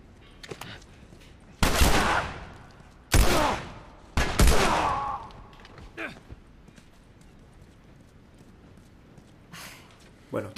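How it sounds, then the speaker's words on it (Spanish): Three loud, sharp gunshot bursts in the video game The Last of Us ring out a second or so apart, each trailing off, followed by quieter scattered knocks and shuffling. "¿Le está disparando a Tess?"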